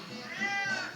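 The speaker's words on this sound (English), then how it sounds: "there's the cat saying wow now" A cat lets out a single drawn-out, wavering meow in a home, close and fairly loud, with no talking over it.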